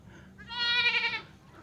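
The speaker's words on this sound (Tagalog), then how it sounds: "Nakawala na po yung isang kambing dito ni Tropa" A goat that has slipped out of its pen gives a single short, nasal bleat close by, rising and fading within about a second against quiet outdoor background.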